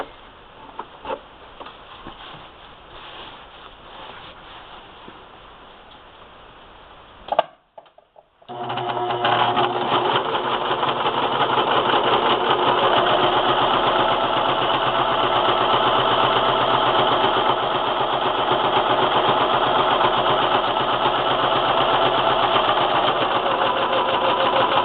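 Sewing machine stitching a spool knit rug: after a quiet stretch with a few handling clicks and a brief pause, a loud, steady mechanical whir with rapid needle clatter runs continuously and close.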